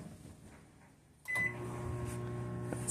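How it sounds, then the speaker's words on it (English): A microwave oven starts up with a sharp click and short beep, then settles into a steady low electrical hum that continues to the end. "Put some things in the microwave."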